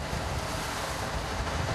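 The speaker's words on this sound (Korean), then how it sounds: "점점 거세지는 파도." Rough ocean waves at sea off Yeosu, South Korea, growing stronger, surge and wash over a constant whoosh of wind on an octopus fishing boat, a dense, steady roar with no voices.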